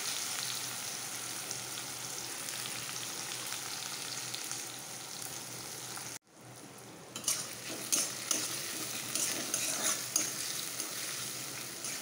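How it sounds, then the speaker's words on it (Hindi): Onions cooking in hot oil for a spicy Bengali-style fish curry give a steady, close sizzle that cuts out briefly mid-way, then returns with occasional scraping stirs and small utensil clinks. "प्याज को हम हल्का तल लेंगे, कच्चापन जाने देंगे।"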